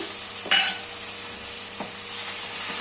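Methi leaves and lentils tossed into a pan over low gas, a steady hissing sizzle with a soft clatter as they go in and a faint scrape later, close and continuous without any speech.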